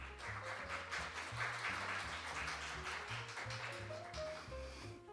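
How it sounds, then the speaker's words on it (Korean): Audience applause fills the hall at an international ecosystem services symposium, a steady, moderately quiet wash of clapping lasting throughout, with a sustained tonal background beneath it. "큰 박수 부탁드리겠습니다."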